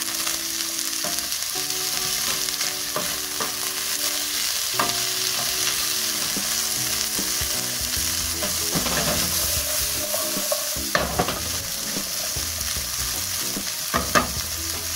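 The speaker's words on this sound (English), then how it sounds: "so I'm going to add my chickpeas. And I'm going to saute them just for literally a minute." Canned chickpeas sautéing in a pan with browning aromatics, a steady close sizzle and frying hiss running throughout with repeated scraping and stirring clatters from a utensil.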